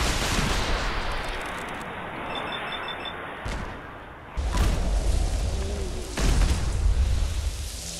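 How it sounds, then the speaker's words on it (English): Heavy booming shots from anti-aircraft turrets in Fallout 4, loud and dense, with several strong blasts rumbling over a continuous roar of battle and no talk. "Those are supposed to be like anti-aircraft turrets."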